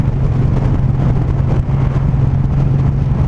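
A 2019 Suzuki M109R motorcycle engine drones steadily in 4th gear at about 54–55 mph, a loud continuous low rumble mixed with rushing wind noise, close to the microphone.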